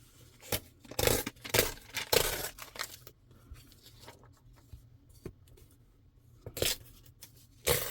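Scissors trimming paper for a vintage fall collage: a close series of crisp snips and rustles, clustered at first, then sparser with quiet handling between cuts.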